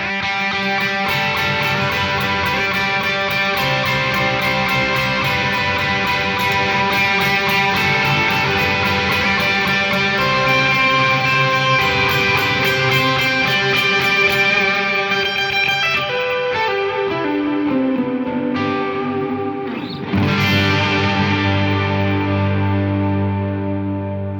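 An electric guitar played through a distorted, chorused preset on a Hotone Ampero II amp modeler, sustained chords and lead notes ringing with echo, ending on a bend and a low chord.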